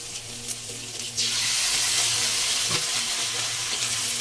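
Tofu frying in a pan with oyster sauce: a quieter sizzle jumps to a loud, steady hiss as the sauce hits, with a brief clatter partway through, close and without talking.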